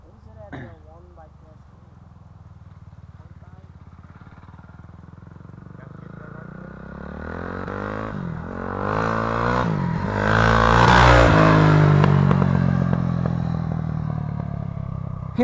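A 2006 Honda CRF 450 dirt bike engine running and building revs, its sputtering roar swelling loud and close amid clatter, with people talking over it.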